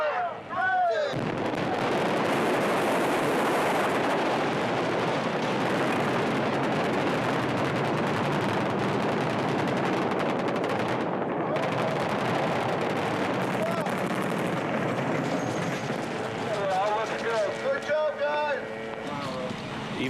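Sustained rapid simulated gunfire and booming blasts on a Transformers film set fill the scene, dense and loud throughout, with voices shouting beneath the barrage.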